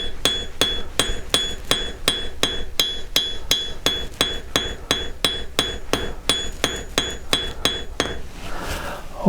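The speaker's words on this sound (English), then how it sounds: "So let's do a little bit more forging with the cross peen." A cross peen hammer forging sterling silver wire on a steel block rings out in about twenty sharp, evenly spaced metallic strikes, close and loud, each with a bright ringing tone, before the blows stop and a brief scraping follows.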